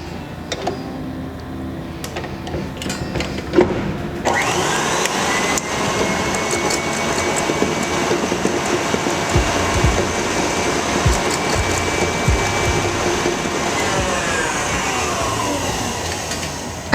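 Electric mixer beating cream frosting for mini cupcakes, a steady motor whir that starts up partway through and then runs continuously and loudly to the end.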